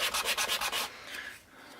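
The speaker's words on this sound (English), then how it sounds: "I'm sanding all 4 sides. I got a bigger piece of sandpaper" Sandpaper rubs briskly back and forth across the sides of a small handmade mermaid box, about eight quick, even strokes close by before the scraping softens and trails off.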